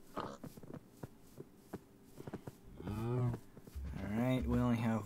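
Cattle in the Minecraft video game low out with repeated moos in the second half, two long drawn calls standing loud over clicky footstep-like game sounds and soft background noise.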